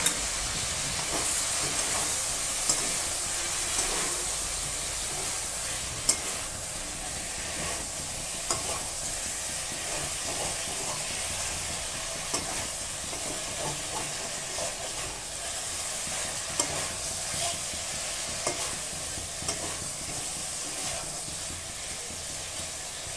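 Ginger paste fries and is stirred in a pan for a cauliflower and soybean curry, a continuous sizzling hiss broken by scattered soft scrapes and clicks of stirring, with no voices.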